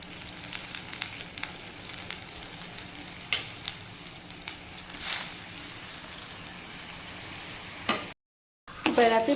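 Grated raw mango gets stirred into boiling jaggery water in a pot for Tamil mango pachadi, a soft bubbling simmer with scattered scrapes and clinks of a spoon, a brief silent gap, then clattering near the end.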